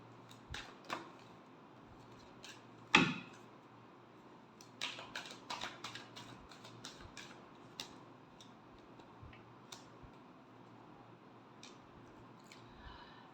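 Tarot cards being shuffled by hand, a quiet series of soft papery flicks and taps spread across the stretch, with one sharper snap near the start, alone with no talk.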